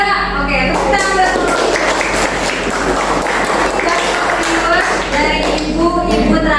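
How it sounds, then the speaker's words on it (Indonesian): A class of students claps their hands in a sustained burst of applause, dense and continuous for several seconds, with a teacher's voice speaking over the clapping. "Oke, tepuk tangan."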